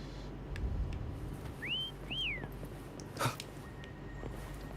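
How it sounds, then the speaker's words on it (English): A character whistles in the video game Wuthering Waves: two short rising-and-falling whistled notes, fairly faint, over a quiet ambient background. "Try whistling."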